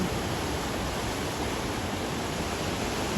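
A flooded Gargeya river near Pileru rushes past in a steady, loud broadband roar of churning water, continuous and unbroken throughout, with no voices.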